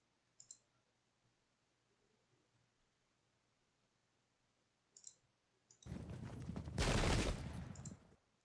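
Musket volley fire in the Pike and Shot strategy game, Polish versus Ottoman armies: faint isolated clicks, then a dense crackling fusillade of many overlapping shots that swells to a loud peak and fades.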